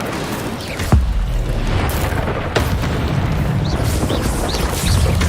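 Spellcasting and fiery blasts in Hogwarts Legacy, with a couple of sharp booming impacts over a loud, continuous rumble of battle effects.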